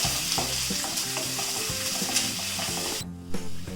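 Garlic, ginger and coconut pieces frying in oil for a black chicken curry give a loud, continuous sizzle. A spoon stirs through it with scraping knocks, and a short gap comes near the end.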